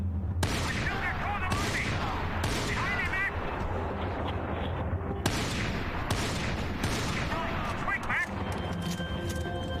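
Gunfire in the video game Max Payne 3: dense, rapid bursts of shots and booming impacts keep going over a constant game backdrop, with sharp louder cracks at intervals and voices cutting in now and then.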